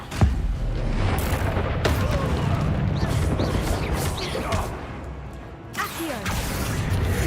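Incendio fire spell cast in the video game Hogwarts Legacy, a continuous dense rumble of game combat effects with bursts and booms, loud throughout with a brief dip near the end.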